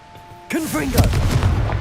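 A Confringo blasting spell goes off in the wizarding game Hogwarts Legacy: a sudden loud boom-like burst after a quiet half second, with a rumbling tail sustained to the end, alongside a voice.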